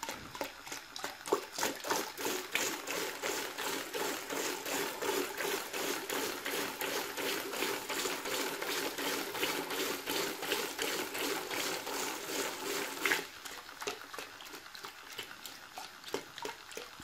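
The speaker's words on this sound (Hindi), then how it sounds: "स्पीड बहुत तेज़ी से पानी दे रहा है, काफ़ी स्पीड है इस पंप की" Small 12V DC gear or diaphragm pump pushing water, a fast steady rhythmic chatter with splashing flow, fairly faint and constant for most of the span before the pitch and level shift near the end, no voices.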